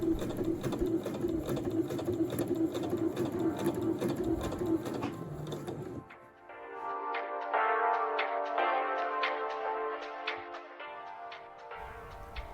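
A sewing machine runs a 2.5 straight stitch around the square neckline of a babydoll top, humming steadily and fairly close. It pauses briefly at the corners while the fabric is turned, then resumes with a lighter, rhythmic whirr.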